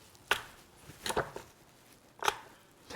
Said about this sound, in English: I'm going to take this badass medieval looking torture device with 48 stainless steel needles, and I'm going to puncture the heck out of this steak